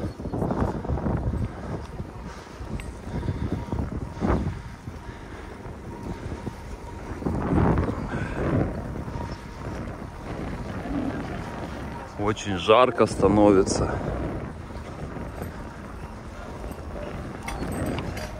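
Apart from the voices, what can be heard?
wind blowing into the microphone while riding against the wind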